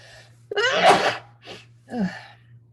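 A single loud sneeze bursts out after a quiet moment, followed by a couple of softer breathy sounds, over a faint steady hum.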